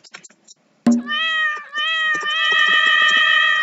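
A video-game cat meows in a long, drawn-out cry that holds steady for nearly three seconds, loud and close, after a few faint short taps.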